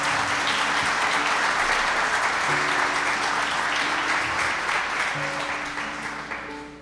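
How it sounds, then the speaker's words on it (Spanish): A church congregation at a Sunday morning service breaks into full, steady applause, dense and continuous with a soft tonal hum beneath, gradually tapering off near the end. "Dele un aplauso a Él esta mañana."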